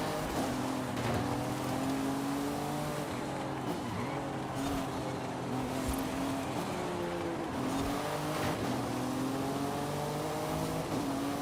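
Acura NSX engine in the racing game Forza Horizon 5, a steady droning whine that rises and falls through gear shifts, with tire squeal and skidding mixed in throughout.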